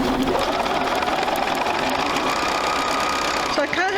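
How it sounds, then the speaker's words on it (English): A sewing machine runs steadily while stitching a quarter-inch quilt seam, a continuous mechanical whir that stops near the end as a voice begins to speak. "we're going to sew that at 1/4 inch"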